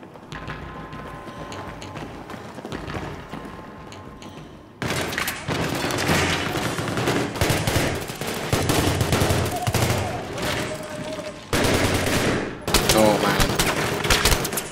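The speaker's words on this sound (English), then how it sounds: "Somebody shooting from back" Dense gunfire in the Battlefield 3 campaign: after a quieter opening with some talk, heavy bursts of automatic shots erupt near five seconds and keep hammering, loud and close, with only brief lulls through to the end.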